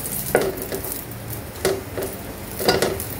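Hotdog frying and browning in a pan, a steady sizzle broken by three sharp clatters of a utensil against the pan, with no talk.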